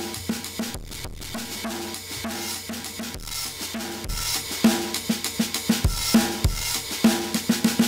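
A drum track in Ableton Live run through heavy compression, saturation and distortion, with gritty, noisy, crushed hits in a steady groove that grows denser and punchier toward the end, loud and up close.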